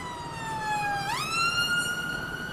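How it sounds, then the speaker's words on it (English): A siren wails through city streets, one rising and falling tone that sweeps sharply upward midway and then holds high, moderately distant and without talk. "Sirens pierced through the air,"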